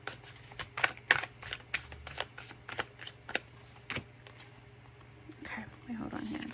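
Cards from a Luna Soul Tarot deck being shuffled up close, a series of crisp riffling bursts and snaps at an uneven rhythm, with a soft rustle and handling noise toward the end over a low steady hum.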